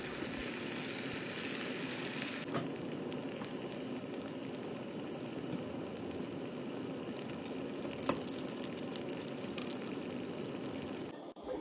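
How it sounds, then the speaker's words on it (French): Steady, dense crackling sizzle of briouates deep-frying in hot oil, continuous and close throughout, with a brief clatter near the end. "tu vas les faire frire dans une huile de friture bien chaude pour les faire dorer des deux côtés"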